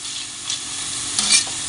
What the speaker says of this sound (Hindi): क्रिस्पी गोल्डन होने के बाद इसको फ्राई करके निकाल लेंगे।